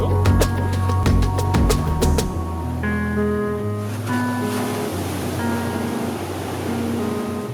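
Surf rolls steadily onto a quiet, nearly empty beach in Krabi, Thailand, a continuous close wash of breaking waves with a low hum, and brief tonal sounds early on.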